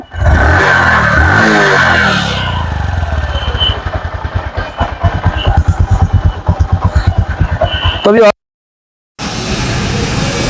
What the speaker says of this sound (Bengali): এই বাইকটা স্টার্ট করে সাউন্ড কন্ডিশন দেখাবো